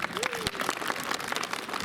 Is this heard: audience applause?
yes